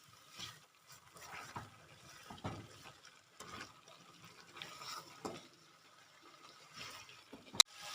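Beef stock is poured onto cooked masala for a beef gravy, with soft stirring and scraping in a pot, light sizzling, and a sharp clink near the end, all close and fairly quiet.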